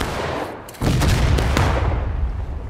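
Musket fire in the American Civil War game War of Rights crashes in abruptly as a loud, dense volley after a brief quieter lead-in, with rattling shots overlapping for a couple of seconds.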